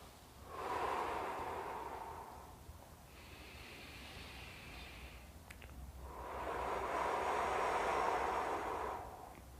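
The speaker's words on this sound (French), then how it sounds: "On souffle." A person breathes out slowly and audibly twice during a lying stretch for the back of the legs, hips and shoulders, each long airy exhale close and breathy with a quieter pause between them.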